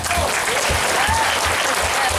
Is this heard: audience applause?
yes